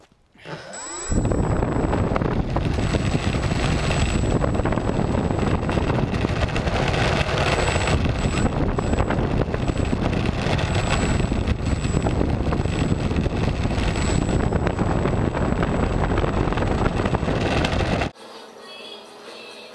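A RocHobby Critical Mass RC airplane flies with its motor whining in a loud, steady, close drone, recorded by an onboard GoPro with constant wind rush, then cutting off abruptly near the end.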